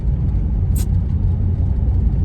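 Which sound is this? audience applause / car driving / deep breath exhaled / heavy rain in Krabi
car driving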